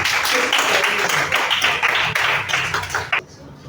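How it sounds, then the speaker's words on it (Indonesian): A high school classroom in Jakarta breaks into applause for a student, dense close clapping for about three seconds that stops abruptly. "Oke, tepuk tangan untuk Ian."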